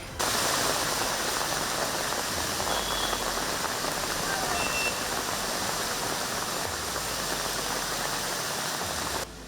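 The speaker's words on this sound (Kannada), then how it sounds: "ರಸ್ತೆಯಲ್ಲಿ ನೀರು ಹೇಗೆ ಭೋರ್ಗರಿಯುತ್ತಿದೆ ನೋಡಿ" Dense, roaring wash of rainwater rushing along a flooded Bengaluru road after evening rain, steady and loud throughout, with a low engine rumble underneath.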